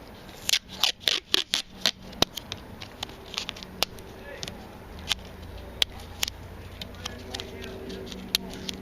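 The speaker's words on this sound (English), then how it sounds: "we're going to take the tape and tear a couple pieces" Masking tape being torn into several pieces, a quick burst of sharp ripping bursts near the start followed by sparser, fainter tears and crackles, close up with no talking.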